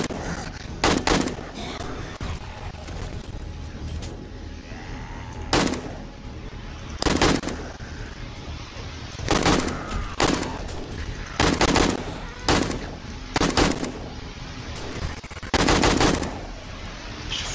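Gunfire and automated turret fire during a zombie horde night in 7 Days to Die, with loud repeated bursts of shots in clusters over a steady background rumble.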